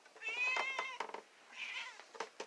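A pet cat, let outdoors for the first time, gives several drawn-out, wavering meows close by, some rising and falling, with short pauses and a few quieter calls between them.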